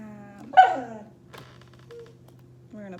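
A therapy dog lets out a single sharp, close bark that trails into a whine, followed by a faint yip a moment later, over a low steady indoor hum, then another brief whimpering yelp near the end.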